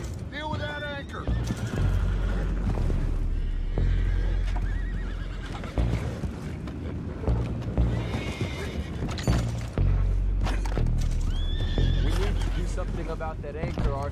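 Horses in Red Dead Redemption 2 whinny and neigh repeatedly over a steady rumble of galloping hooves, with loud game action throughout and voices speaking over it.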